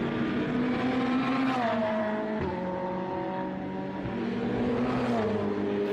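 Racing cars, a Ferrari and a Porsche, lapping the Estoril circuit, their engines droning loudly and steadily at close range, with pitch falling and rising through gear changes and the bends.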